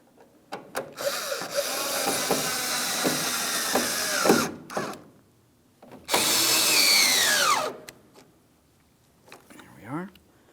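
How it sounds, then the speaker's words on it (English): Power tool driving tail light mounting bolts on a 2007-2014 GMC Sierra 2500 HD, with two close, loud whirring bursts separated by pauses, with ratcheting clicks and a brief voice. "we're starting in both of our mounting bolts and we'll snug them up."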